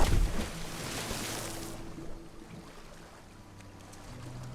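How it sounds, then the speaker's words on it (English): A character splashes into water in Elder Scrolls Online, a brief loud splash at the start settling into soft lapping water and faint ambient wind. "Just jumping in the water."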